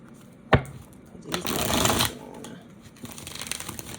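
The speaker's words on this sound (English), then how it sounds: "And one more shuffle." A sharp tap, then a quick riffling shuffle of tarot cards, followed by softer papery shuffling and light handling, up close with no talking.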